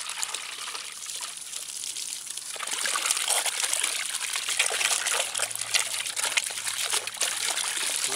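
A Toyota Prius 12-volt water pump sprays a jet of water that hisses and splashes, quieter at first and then louder and steadier after a couple of seconds, with no talking.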